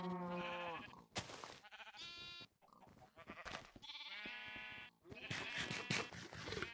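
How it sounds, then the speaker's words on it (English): A black sheep in the Minecraft video game bleats repeatedly, several wavering blatting calls in a row, loud and close with short gaps between them. "that'll be the last one we need is that black sheep"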